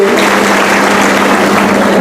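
A crowd at a political rally breaks into loud, sustained applause, a thick, even wash of clapping that continues without pause through the whole moment.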